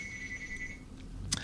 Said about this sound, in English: let the phone ring. I know who it is.